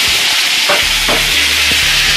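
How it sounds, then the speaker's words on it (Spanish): Lamb pieces fry in hot oil over medium heat in a pan, giving a loud, steady sizzle with a few stirring scrapes and clinks, no talking. "a sofreír la carne de cordero."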